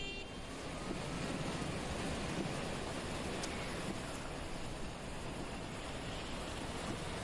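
Heavy monsoon downpour in Mumbai, a steady, dense wash of broadband noise holding at a constant level throughout, with no voices and no distinct individual drops.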